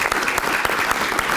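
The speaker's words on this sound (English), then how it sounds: "So let's give Sylvia a big round of applause" Brief, dense applause from an audience at a veterans' community event, many hands clapping steadily and fairly loudly over a short burst with no talking.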